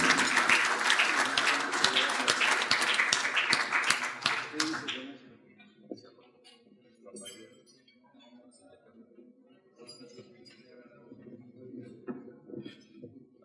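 An audience applauds a distinguished guest speaker at a forum on water supply for the Valley of Mexico; a burst of clapping lasts about five seconds, then fades into a quiet room with faint talk and shuffling.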